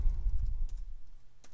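Computer keyboard being typed on during a login, a short close burst of soft key clicks over low background hum, ending with a single sharper click.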